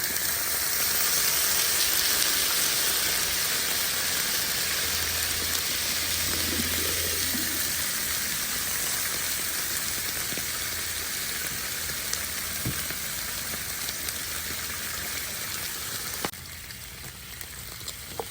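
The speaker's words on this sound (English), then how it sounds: "we're going to add some water to it, get that steam going" Water steams and sizzles on a hot Blackstone griddle cooking smash burgers at a campsite, a steady loud broadband hiss that holds for most of the clip before dropping off abruptly near the end, with no talking.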